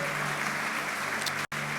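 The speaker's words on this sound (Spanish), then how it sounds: "Dale un fuerte aplauso a tu Rey" Sustained applause from a church congregation during a worship service honoring Jesus, a steady wash of clapping that holds evenly before a brief cut to silence near the end.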